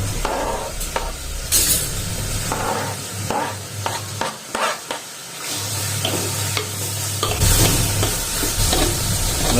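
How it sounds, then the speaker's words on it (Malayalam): Chopped tomato and green chilli go into softened, salted onions for a Kerala-style drumstick curry, with a steady sizzle and intermittent spoon scrapes and stirring in the pan, fairly close and with no voices. "നമുക്കതിലേക്ക് മുറിച്ച് വെച്ച തക്കാളിയും പച്ചമുളകും അങ്ങിട്ട് കൊടുക്കാം"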